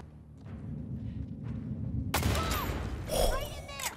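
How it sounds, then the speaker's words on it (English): Gunfire in The Last of Us Part II: a loud burst of shots and impacts erupts about halfway through, following a low, rumbling game ambience, with a second sharp hit near the end. "I wanna test out this gun."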